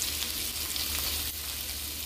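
Pork bones frying with onion in a pan for an Ilocano laing dish, a steady dense sizzle with crackling oil throughout, close and fairly loud with no voices.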